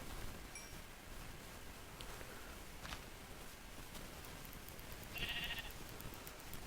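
Faint sheep bleats from the Minecraft video game, a couple of short calls over a low, steady background hiss, with no talking.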